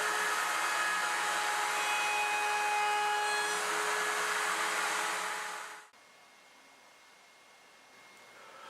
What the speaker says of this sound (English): With all the pieces cut to size and shape, it's time to round it over at the router table.